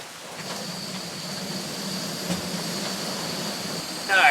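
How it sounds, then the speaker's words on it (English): Steady rain patters on a camp shelter in the mountains during a solo overnight trip, a soft even hiss close by that holds throughout, with a brief louder rustle near the end. "watching it rain inside of your shelter"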